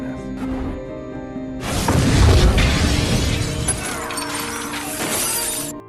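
An explosion in a Breaking Bad episode bursts in after a quieter start, a loud shattering blast with a crash of breaking glass and debris that rumbles on for several seconds.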